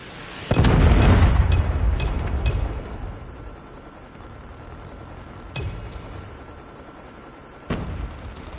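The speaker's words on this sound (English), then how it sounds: "Friendly predator missile inbound." A predator missile strike in Call of Duty Mobile lands with a loud, close boom and a long rumbling decay, followed several seconds later by two smaller distant blasts.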